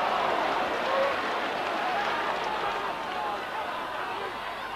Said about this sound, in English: The oohs and the ahs from the crowd as these tackles are going in